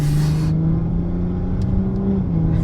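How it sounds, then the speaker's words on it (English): A tuned BMW X3 M40i engine in sport mode hums and drones steadily at close range, the pitch rising slightly as it accelerates, with a brief hiss early on. "You can see how this car is going to blast around."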